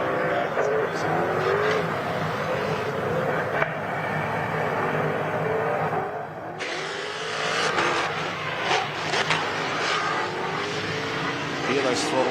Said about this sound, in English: Hear those throttle adjustments, Diggles, as he just goes up and crests over the hill there